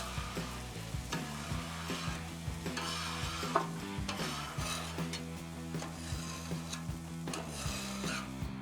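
Repeated metal scraping strokes across a hot flat Blackstone griddle during cleaning, with steady sizzling underneath; close and fairly loud, no talking.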